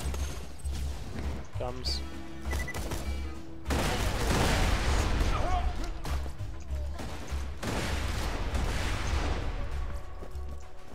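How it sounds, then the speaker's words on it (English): Enemy gunfire and blasts roar through a Borderlands 2 firefight, loud and dense, swelling heavier partway through amid explosions and game noise, with players talking over the shooting. "That other guy is still shooting me."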